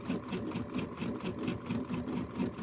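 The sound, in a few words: sewing machine sewing quilt pieces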